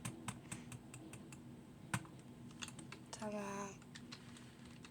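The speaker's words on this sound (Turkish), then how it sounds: "Bir dakika basacağım sol tuşuma." A computer mouse's left button gives sharp, close clicks in an irregular series, with a short burst of voice partway through.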